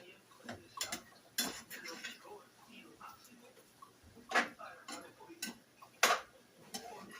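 Metal utensil scraping and clinking against a pot while recadito cooking base is stirred in, a series of irregular ticks and clatters at close range with a little background noise.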